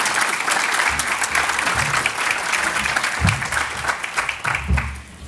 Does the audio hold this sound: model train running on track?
no